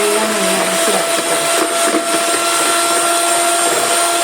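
Electric mixer beating eggs with powdered sugar into cake batter for a marble cake, a steady loud whirring hum that runs without a break.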